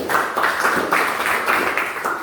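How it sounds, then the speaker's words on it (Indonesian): A classroom audience claps for a group that has just finished presenting, a lively burst of applause with pulsing bursts of many hands, fairly loud and close. "kita berikan tepuk tangan yang meriah kepada kelompok"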